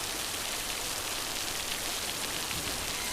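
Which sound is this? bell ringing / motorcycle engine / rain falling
rain falling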